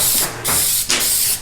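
Short hissing bursts of a spray paint can sputtering and spraying unevenly, two or three sprays with brief pauses between, close and clear.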